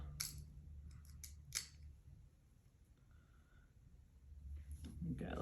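Scissors cutting through a bungee cord at a table, a few sharp snipping clicks near the start and again at the end, with quiet room noise and soft handling sounds between.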